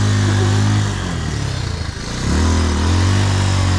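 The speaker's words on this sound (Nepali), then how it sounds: "बाइक भर्खरै झरिरहेको छ" A motorcycle descends an extreme off-road trail in Jumla, Nepal, its engine a loud, close, steady drone that eases off briefly midway before building back up.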